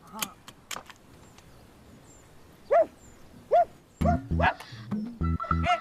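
A person imitates a dog, giving a few short barking yelps alone, then a rapid run of louder bark-like sounds with scattered clicks.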